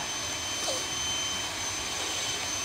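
A powerful vacuum cleaner runs in a steady, loud whoosh with a high whine throughout, alone, with no talk over it.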